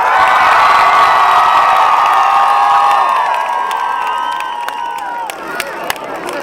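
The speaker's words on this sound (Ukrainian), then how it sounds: "І кричимо, і плескаємо." A concert crowd at an outdoor sports and physical culture festival stage in Zolotonosha shouts and cheers loudly in a sustained roar with clapping mixed in, fading down toward the end with scattered whoops.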